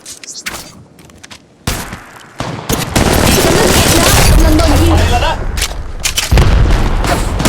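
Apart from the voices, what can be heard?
gunfire from enemies in video game Apex Legends Mobile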